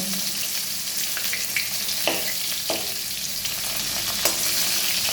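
Katla fish pieces frying in hot oil, a loud, close, continuous crackling sizzle with a few sharp spatter pops and light stirring clicks, no voices.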